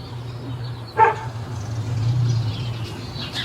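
A dog inside a house gives a single short, muffled bark heard from outside a door during a police call, set against a low steady hum.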